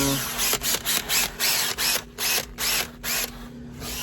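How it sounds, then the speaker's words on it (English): A power drill fitted with a drill brush scrubs car upholstery in short repeated bursts, about ten pulses in a row, loud and close, with a faint scrubbing texture and no speech. "And then you got a drill brush."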